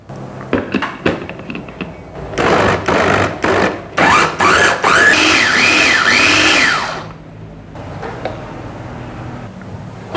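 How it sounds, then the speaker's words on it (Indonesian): A kitchen blender grinds cassava with water, starting after a few knocks and clatters, whirring loudly for a few seconds and then stopping, with quieter handling noises afterward. "Pakai air ya supaya nanti pas penggilingannya itu cepat halus."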